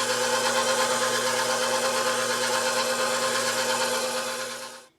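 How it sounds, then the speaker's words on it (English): Electric mixer beating cream cheese filling for a New York cheesecake with vanilla, lemon zest and whipped cream, a loud, steady motor whir with a rough churning texture that winds down and stops at the end. "so we're done beating our cream cheese filling"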